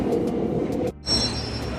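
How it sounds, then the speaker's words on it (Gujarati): A London Underground District line train rumbling close by, a dense low roar that dips briefly then resumes with a thin high squeal of wheels. "હવે હું જઈશ 8મી ટ્રેન જે છે ડિસ્ટ્રિક્ટ લાઇન"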